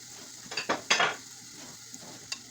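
Garlic, tomato and red pepper hit a hot pan and are stirred, giving a few short bursts of scraping and sizzling about a second apart that settle into a faint background crackle.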